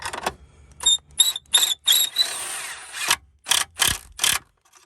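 A ratchet tightens the battery hold-down bolt on a 2001-2007 Ford Escape in a run of sharp, close clicking bursts separated by short pauses, with no talking.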